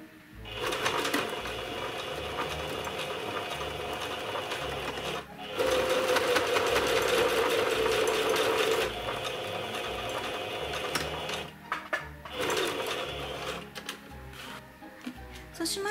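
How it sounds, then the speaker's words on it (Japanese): A sewing machine stitches a belt in place 5 mm in from the edge in a rapid, steady mechanical whir, running in bursts with short pauses between runs, and no speech. "ベルトを固定するように 5mm 内側を縫っていきます"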